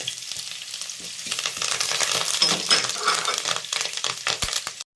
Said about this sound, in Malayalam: ഇനി നമുക്ക് അതിലേക്ക് വഴറ്റാനുള്ള അതിന് ചുമന്ന ഉള്ളി അരിഞ്ഞ് വെച്ചത്, അതിലേക്ക് 2 തണ്ട് കരിയാപ്പില